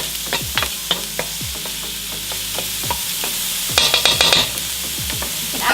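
Onions and garlic sauté in a pot for breakfast fried rice, a steady close sizzle with repeated scraping stir strokes and clinks of the utensil against the pot, no talking.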